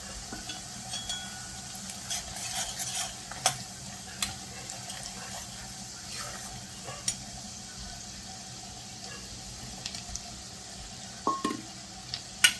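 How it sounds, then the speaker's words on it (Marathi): Dry spices are stirred into softened onions for misal, with a quiet continuous sizzle broken by scattered scraping and clattering stirs, a few louder knocks near the end. "आता आपण इथे सुखे मसाले आपले घालून घेऊयात"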